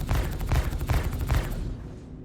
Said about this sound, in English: now somebody starts shooting me